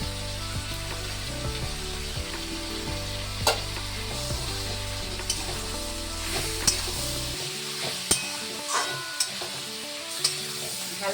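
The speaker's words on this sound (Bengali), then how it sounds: "ভালো করে মিশিয়ে নিয়ে এবার দিয়ে দেবো যে আদা রসুন আর কাঁচা লঙ্কা বাটাটা।" Ginger, garlic and green chili paste fries with chicken in a pan, a steady sizzle running throughout with sharp spoon scrapes and clinks at irregular intervals, close and clear, no talking, with background music carrying on underneath.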